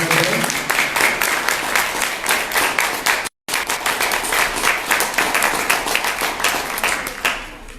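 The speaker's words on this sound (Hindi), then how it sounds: "कृपया एक बार जोरदार तालियों से" A hall audience gives a hearty round of clapping for a guest at a mindful-breathing session, dense and steady, broken by a brief gap before resuming and easing off at the end.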